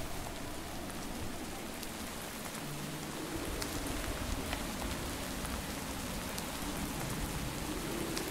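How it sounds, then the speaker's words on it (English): Rain falls in the Minecraft video game, a steady, even hiss of drops with occasional faint rumbles, continuous throughout and with no talking over it. "And the rain, of course."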